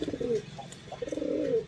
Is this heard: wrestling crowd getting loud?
no